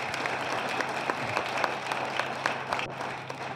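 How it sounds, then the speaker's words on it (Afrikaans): Steady audience applause at a livestock production auction, a dense wash of many hands clapping continuously throughout with no talk over it. "ek dink ek wil graag julle moet vir al twee lekker hande klap gee asseblief."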